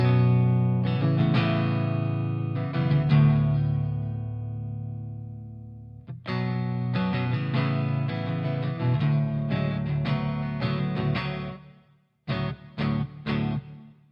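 Clean electric guitar through a Blackstar amp plugin in Amp Locker rings out alone as sustained chords and single notes, with brief pauses between phrases.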